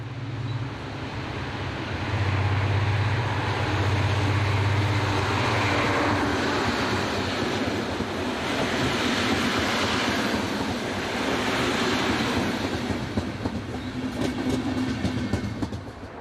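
A passenger train arriving from Eppingen rolls into a station, its steady rumble and rail noise loud and continuous throughout, with a low drone and faint squeals as it slows.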